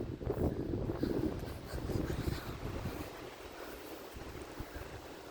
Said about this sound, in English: Here comes the wind thing again.